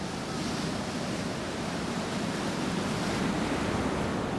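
Storm waves and strong wind batter the North Sea coast, a dense, unbroken roar of surf and gusts that stays loud and steady throughout.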